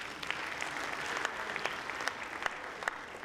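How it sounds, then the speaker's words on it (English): An audience claps for a speaker in a steady burst of applause, moderately distant and fairly soft, with no voices over it. "A big round of applause again for him."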